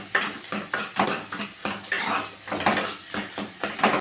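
Egg fried rice seasoned with pepper powder is stirred in a pan, a spatula scraping and clanking against the metal in quick, steady strokes, close and fairly loud with no one talking.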